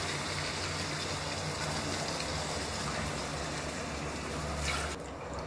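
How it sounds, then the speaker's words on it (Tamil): A steady pour of coconut milk gushes continuously into a pan of rice, a constant wet rushing that stops abruptly near the end. "இந்த அரைச்சி வச்சுருக்க தேங்காய்ப்பால் 4 கப் இதில் சேர்த்துப்போம்."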